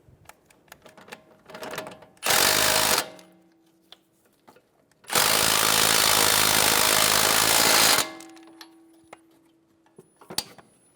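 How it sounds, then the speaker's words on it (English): A ratchet on a 19mm socket snugs down the nut on a front driver side sway bar link of a 2007-2011 Toyota Camry, two bursts of rapid ticking close by, the second longer, with quiet handling noises between. "And using a 19mm socket,"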